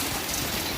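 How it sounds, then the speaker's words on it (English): Hail falling during an outdoor pizza-making session, a dense steady clatter and hiss of pellets striking surfaces, loud and continuous with no gaps. "That's hail."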